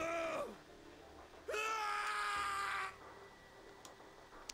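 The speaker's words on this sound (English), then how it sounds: "Scream echoed through the incineration chamber, full of rage and despair." A scream of rage and despair in the video game Zero Escape, rising then falling harshly, followed by a longer strained second cry echoing in an incineration chamber.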